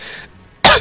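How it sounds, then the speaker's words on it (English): A single sharp cough bursts out loud and close after a brief lull, preceded by a fainter hiss of background noise. "I'm fighting a cough!"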